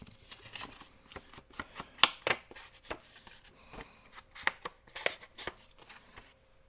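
Paper sheets are handled up close while assembling a paper bag journal, giving a string of uneven crinkles, rustles and sharp flicks, some louder taps standing out against a quiet room.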